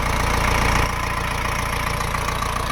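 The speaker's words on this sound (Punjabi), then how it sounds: "ਪ੍ਰੀਤ ਟਰੈਕਟਰ ਨੰਜਾ 2022 ਮਾਡਲ ਟਰੈਕਟਰ ਹੈ ਸੋ ਦੇਖੋ ਸਟਾਰਟਿੰਗ ਵਗੈਰਾ ਜੀ" A 2022 model Preet tractor engine idles at close range, a loud, steady low diesel chug with an even rhythm throughout.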